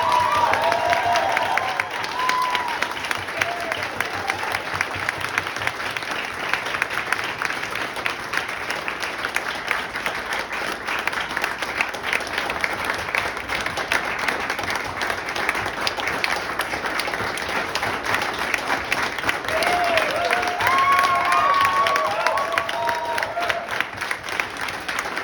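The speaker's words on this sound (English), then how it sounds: "really give them a very big applause" An audience at a dance festival applauds loudly and continuously for about twenty-five seconds, a dense wash of clapping with a few faint voices over it.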